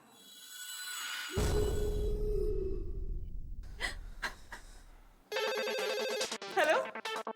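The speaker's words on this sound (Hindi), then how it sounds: "राजा को फोन करो ताकि अपना प्लान आगे बढ़े" A telephone rings in a household comedy scene, a sharp electronic trill bursting in loudly after a gasp and a low rumbling swell, repeating for a couple of seconds with no talk over it.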